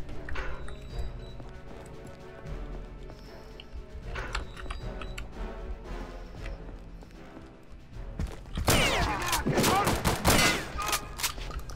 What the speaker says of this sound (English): Shotgun's pretty good.